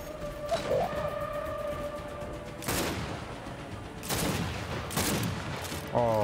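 Gunfire in the Gears 5 video game, with a sniper rifle and pistol in use: several sharp, loud shots spaced a second or two apart over a constant rumbling background and faint game tones.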